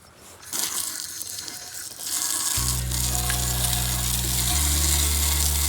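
Water spray rinsing a pair of Mickey Thompson valve covers during a restoration, a steady close gushing hiss that swells louder partway through, with a low constant hum underneath and no talking.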